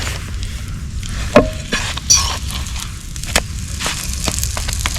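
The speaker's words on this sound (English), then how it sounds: "time to flip our bread here" Bread frying in a pan on a farm morning, with a steady close sizzle and scattered sharp clinks and scrapes of a utensil against the pan as the bread is flipped.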